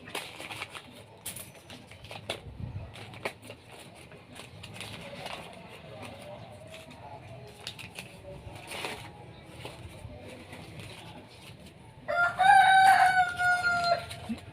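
A rooster crows loudly near the end, a harsh drawn-out call following a stretch of quieter rustling background.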